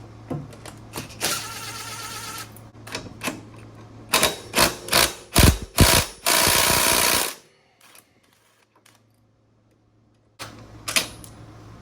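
A ratchet wrench works bolts loose from the intake of a 1997 Eclipse GSX, giving loud bursts of rapid mechanical clicking in uneven spurts, a long quiet pause, then one more short burst of ratcheting.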